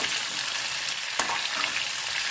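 Chopped onions and tomatoes sizzle in a hot pan, a dense close frying hiss with one sharp clack of a utensil midway, and no voices.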